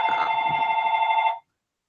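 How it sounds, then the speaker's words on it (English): A telephone bell rings loudly and steadily for over a second, a bright sustained tone that cuts off abruptly, heard alone without talk. "Oh, good. The phone's ringing."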